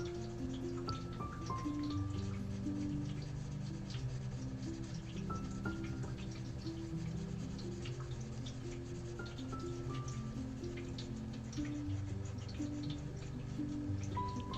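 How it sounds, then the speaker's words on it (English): A small waterfall fountain driven by a pump trickles and drips steadily, with a continuous close watery patter and a faint tonal hum underneath and no talking. "I think I need to clean the waterfall pump."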